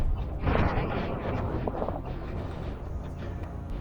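A tank setting off a landmine on a battlefield produces a loud, rumbling blast with broad low-end roar and wind-like turbulence that swells early and then rolls on steadily.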